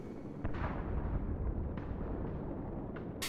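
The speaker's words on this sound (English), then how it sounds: "You can still see and hear the explosions." Explosions in the Final Fantasy VII Remake video game near the old Sector 7 train station: several muffled booms and bursts over a continuous low rumble at moderate distance.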